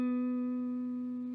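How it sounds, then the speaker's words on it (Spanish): Electric guitar playing a single sustained note with vibrato produced by a horizontal side-to-side string movement, a clear steady tone with rich harmonics, alone and fairly loud. "hay otras personas que también lo hacen con un movimiento horizontal"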